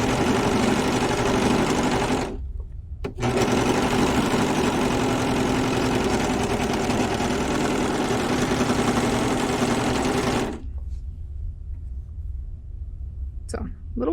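A serger overlocker stitches knit fabric in a loud, steady, close mechanical whir that runs for most of the stretch, broken by one brief pause, then stops into quiet.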